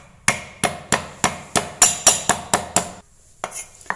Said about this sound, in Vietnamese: Mình băm nhỏ cái phần gừng này.